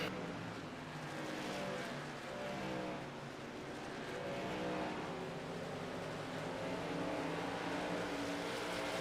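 Race truck engines droning steadily on track in a sim racing game, a continuous dense roar of several trucks at speed with no clear pass-bys.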